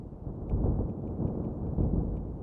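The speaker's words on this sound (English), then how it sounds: "I hear thunder." Thunder rolls in the Minecraft video game, a steady low rumble lasting a few seconds at moderate loudness with no talk over it.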